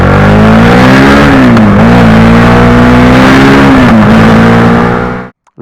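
A Suzuki SV650 motorcycle engine revs loud and close, its steady growl rising and dipping in pitch as it shifts through gears, cutting off abruptly near the end with no voices.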